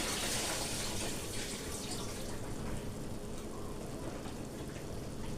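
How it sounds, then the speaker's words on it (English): Water draining off washed cabbage in a home kitchen, a steady close hiss of running, splashing water with no pauses, like a tap running into a sink. "I'm going to drain off all of the water now because I left it in the water."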